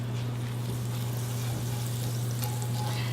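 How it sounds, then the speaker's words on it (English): Butter melting in a preheated skillet gives a soft, steady sizzle over a constant low hum, with a faint tick near the end. "we're going to butter our preheated skillet."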